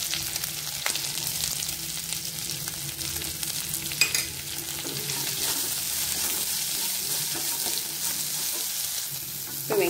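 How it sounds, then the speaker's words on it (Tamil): Sliced onions salted and sautéing in a pan for oats upma: a steady, moderate sizzle with occasional spatula clinks and scrapes, without talk. "இப்போ வெங்காயம் 2 நிமிஷம் வதங்கினா போதும்"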